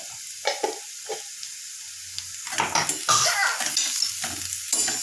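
A spoon stirs boiled potato curry in a pan, making close, irregular scraping and clinking strokes over a light sizzle, quiet at first and then busier, with no one speaking.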